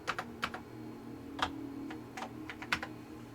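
Keys clack on a Convergent Technologies AWS Turbo computer keyboard in sparse, irregular taps and short bursts, close and fairly quiet over a steady machine hum.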